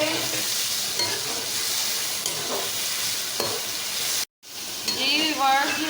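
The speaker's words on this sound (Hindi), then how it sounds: "ये हमने इसमें टमाटर डाल दिए हैं। अब ग्रीन चिली डाल दी है। अब इसको भी हम थोड़ा सा रोस्ट करेंगे।" Tomatoes and green chili roasting in a pan for chatkhara bhindi, a steady close sizzle with scraping stirs, a brief break partway through, then more sizzling and stirring.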